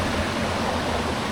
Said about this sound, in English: now got these waterways running to the gates so they can change the direction of where the water's going